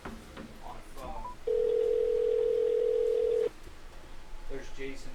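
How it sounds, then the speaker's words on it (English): A steady telephone dial tone hums for about two seconds during a call, clear and loud, with faint background noise before and after it. "Get Don on the phone"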